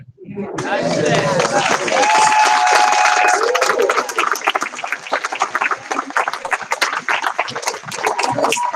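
Applause from an audience on its feet at a ring shout gathering, a dense patter of many hands swelling in after a sung line and holding loud and steady, with a voice crying out over it.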